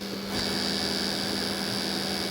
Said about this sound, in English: the fans are still spinning